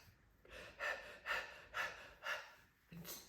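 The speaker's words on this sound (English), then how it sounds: "Breathe fast." Rapid, deliberate breathing in an emotional-mastery exercise: about five quick, evenly spaced breathy huffs roughly every half second, close and fairly quiet, with no talking.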